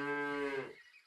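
A cow from the Super Auto Pets video game lets out a single loud, near moo that holds steady, then quickly fades into silence.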